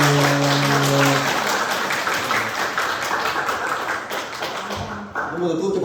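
Audience at a seminar on addiction breaks into sustained clapping, dense and fairly close, after a brief tone at the start, with some voices mixed into the applause.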